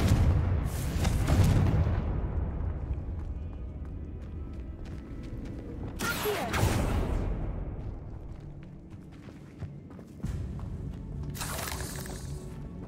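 Confringo blasting spells from Hogwarts Legacy go off as loud booming explosions, three bursts spaced several seconds apart, each with a crackling, shattering tail that fades into rumbling ambience.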